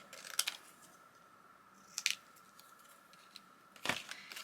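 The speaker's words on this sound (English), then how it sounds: "This is from the embellishment postcard, so I'm going to cut this" Scissors snip through a paper embellishment postcard for a travel journal in three short, crisp cuts spaced a second or two apart, close and fairly quiet over a faint steady hum.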